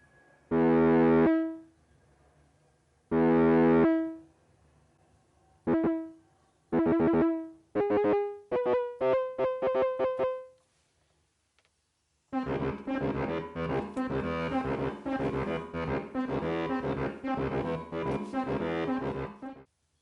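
Korg Volca Modular synth patch with the wavefolder amount jumping higher on key release: loud tonal notes start long and spaced, then quicken into a rapid rhythmic run, a brief pause, and a dense, bright, buzzing sustained sequence to the end.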